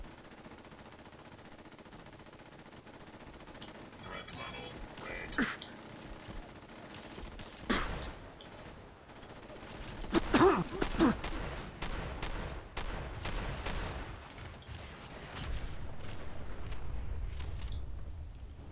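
Automatic gunfire from a sentry robot in the video game Fallout 4, rapid bursts and volleys layered with booms and explosions, loud and dense throughout with no talk over it.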